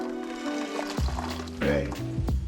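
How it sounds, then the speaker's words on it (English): Smooth, creamy curry sauce poured back into a pot while making curry chicken, a thick glugging pour with wet plops and a clunk of the container, close up, with a voice partly over it. "I'm gonna pour it right back into here."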